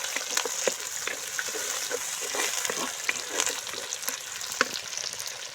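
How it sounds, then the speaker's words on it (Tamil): Curry leaves and tomatoes sauté in a pan with a steady, close hiss of frying, dotted with irregular pops and crackles, running continuously without any voice. "கொஞ்சம் கருவேப்பிலை இப்போ தக்காளியும் போட்டுக்கலாம் இது எல்லாமே நல்லா வதங்கட்டும்"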